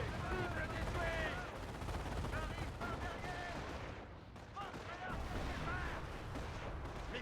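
Battle sounds from the Company of Heroes video game: dense, continuous machine gun rattle and artillery blasts, loud and layered with game voice callouts underneath, easing briefly mid-clip before the fire picks back up.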